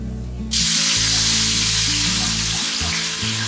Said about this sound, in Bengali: আর এদিকে আমার টিকিয়া ভাজা হচ্ছে